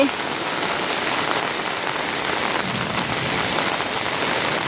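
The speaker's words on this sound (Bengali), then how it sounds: "দেখো কত বৃষ্টি হচ্ছে" Heavy monsoon rain pours steadily in an outdoor setting, a dense continuous hiss of drops on surfaces that holds even and loud throughout, with no pauses or voices.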